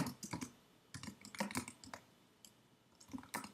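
Typing on a computer keyboard in a document, a quick irregular run of crisp close key clicks that pause briefly and resume, with no voices.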